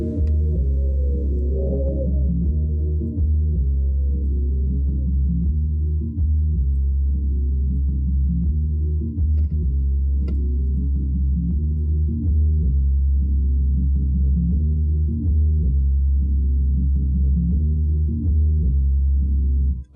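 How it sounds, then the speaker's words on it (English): Isolated bassline pulled from a sample in FL Studio, a deep, sustained low-end tone that plays alone and steadily throughout, with subtle rhythmic note changes and nothing else on top. "now you have basically a nice little bass to add to it"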